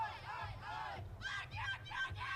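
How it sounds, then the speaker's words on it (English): British supporters cheer and chant in the stands at a European Championships recurve men's team bronze archery match between Switzerland and Great Britain in Munich, with a steady, loud crowd roar of voices rising and falling throughout. "I think you can hear the British fans are here as well."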